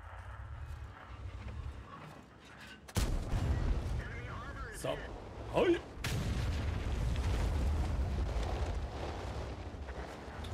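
Gunfire in a sniper video game, with a sudden loud burst of shots and booms around three seconds in and again near six seconds, over a low background rumble of game sounds.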